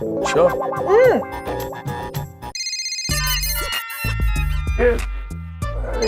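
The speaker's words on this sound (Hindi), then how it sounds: "मेहता का फोन" A phone ringtone plays loudly with a chiming, electronic melody, repeating in bursts, with voices and other sounds mixed in, in a Hindi TV comedy scene.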